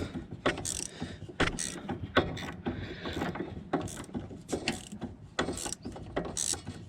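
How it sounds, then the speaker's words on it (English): A ratcheting spanner clicks in quick uneven bursts while working on the front anti-roll bar of a Volvo V70, S60, S80 or XC70, the sharp metallic pawl rattles close and loud with short gaps between strokes. "Looks like a ratcheting spanner."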